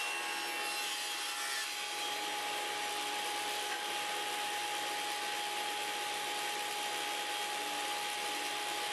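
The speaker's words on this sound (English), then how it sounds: "Putting the 60 degree bevel on one side of component C." A power saw runs steadily while cutting a 60 degree bevel along one side of a wooden component for an end grain board, with a loud, continuous whine and no pauses.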